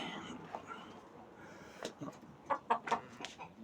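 In a small chicken farm, hens make a few soft, scattered clucks and then a quick cluster of short, louder clucks against a quiet barn background.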